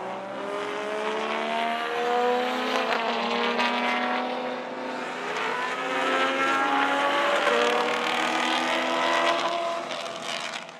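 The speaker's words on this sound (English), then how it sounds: "Chaz Talbot was struggling to get all the power of his Camaro to the ground, as was the Henley RX-8." Race cars at a Victorian Sport Sedan Championship round, including a Camaro and an RX-8, roar past on track, engines whining and rising and falling in overlapping passes, loud and continuous with no talk.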